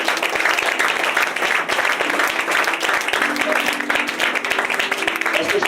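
Church congregation applauding at a service, a dense, loud, sustained wash of clapping from many hands with voices calling out underneath.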